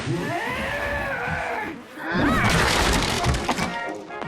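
A cat lets out drawn-out, wavering yowls, loud and close, with a harsher, noisier burst partway through.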